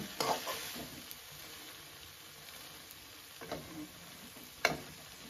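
Pointed gourd slices fry in a pan with a steady low sizzle, broken by several distinct scraping stirs of a spatula, alone with no voices.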